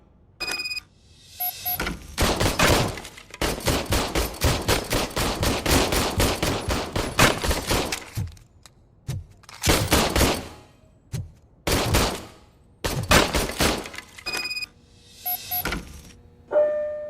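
An old service gun fires in RoboCop Rogue City, loud repeated shots in long rapid bursts and short volleys separated by brief pauses, with a few faint electronic tones between them.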